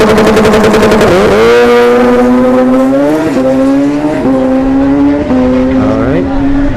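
Turbocharged Suzuki Hayabusa drag bike at a dragstrip, a loud close howl that rises in pitch through several quick upshifts, each marked by a brief dip before the engine screams upward again, sustained and harsh throughout.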